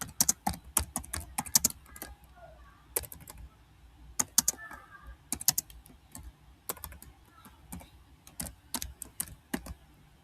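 Quick bursts of keystrokes clatter on a computer keyboard, clicking in irregular clusters with brief pauses between them, close and fairly quiet, with no voices.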